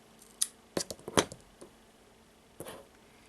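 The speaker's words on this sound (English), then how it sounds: "And cut the end of the cord." Scissors snip through the end of a crochet friendship bracelet cord, giving a handful of quick, crisp close-up clicks in a loose cluster, then one last snip after a short pause.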